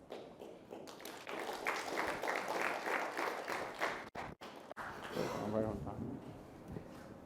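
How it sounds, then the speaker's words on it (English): An audience at a Magento conference breaks into applause after a talk, dense steady clapping filling the room for several seconds, with someone speaking briefly over it as it fades. "please stay as we give Manny one more round of applause"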